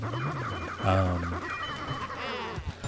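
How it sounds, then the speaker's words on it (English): A rooster screams over a heavy metal track, its loud harmonic crow standing out in the middle of the clip above dense distorted music. "It was combined with like a screaming rooster."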